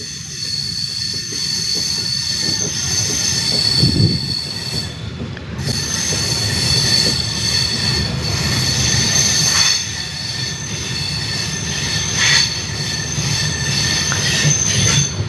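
A train on the Kollam to Coimbatore route rolls along the rails nearby, its wheels squealing continuously over a loud, steady rumble, with no voices.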